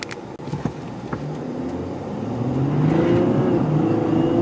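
A 2018 Ford F-150 pickup with a 3.0L V6 diesel engine accelerates from inside the cab, a low hum swelling into a rising whine that climbs steadily in pitch and loudness over a few seconds.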